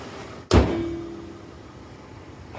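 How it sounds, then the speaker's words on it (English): A single heavy metallic thunk as the hood of a 2005 Kia Sedona is slammed shut, loud and close, followed by a brief ringing decay and quiet surroundings. "I'm going to close the hood down."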